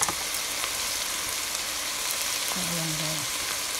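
Sautéed ground meat for sopas sizzles and fries steadily in a pan while being stirred, a continuous close hiss with faint scraping throughout.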